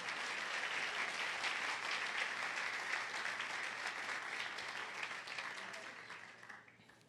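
A church congregation applauds the Lord during a sermon, a full, steady wash of clapping that holds for several seconds and then fades out.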